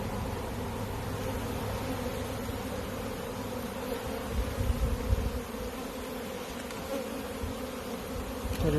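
Michigan honey bees buzzing around an open hive while brood frames are being removed, a dense, continuous droning hum that swells slightly midway, with no talking.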